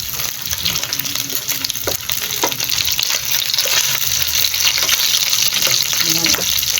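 Okra frying in a pan gives a steady, close sizzle that runs the whole time, with scattered clicks and scrapes from stirring. Faint speech sits underneath.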